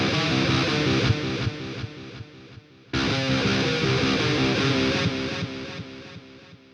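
Distorted electric guitar played through the Hellbeast v2 amp plugin with a delay effect, dense chords and repeating echoes, a brief gap near the middle, then sustained playing that slowly fades, no talking.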